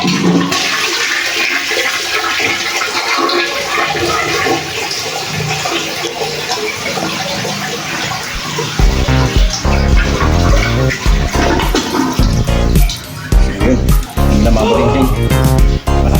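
A repaired American Standard toilet flushes loudly, starting with quieter trickling and then surging into a strong gushing rush of water and refill that lasts several seconds.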